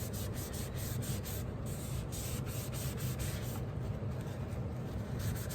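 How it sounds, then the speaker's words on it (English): Ink is rubbed through a thick layer of glue in a repeated, close scratchy scrubbing, each stroke following the last in a steady rhythm with no talking. "sometimes it takes a little bit more rubbing because you're working through tons of glue here"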